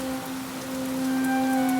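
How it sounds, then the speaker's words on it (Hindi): Heavy evening rain pours down in a steady, dense hiss that swells slightly, with a sustained low humming drone layered beneath it. "उस दिन शाम से ही जोरों की बारिश हो रही थी।"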